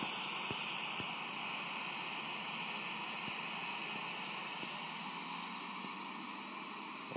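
An airliner taxis to the runway at Long Beach Airport in the Infinite Flight video game, a steady, even jet engine whine and hum with faint periodic thumps, sustained and alone.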